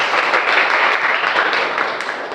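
Students in a classroom clap together in a loud, dense burst of applause that carries on steadily for a couple of seconds before easing slightly.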